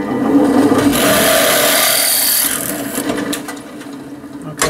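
A stepped drill bit bores out a hole in a scratch-built Gauge 1 live steam part, giving a steady whirring grind for over two seconds that fades into lighter scraping and clicks.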